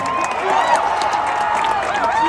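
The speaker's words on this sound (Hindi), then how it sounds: "जोरदार तालियां हो जाए गुच्चू भाई के लिए।" Audience at a Parul University celebrity event applauds and cheers for Guchhu Bhai, a loud, steady wash of clapping and crowd noise with voices mixed in throughout.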